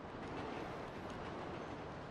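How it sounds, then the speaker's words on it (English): A train rolls past in the GTA V game, a steady, close rumbling rush of wheels and cars on track that holds constant throughout, with no talking over it. "It's gonna get hit by the train"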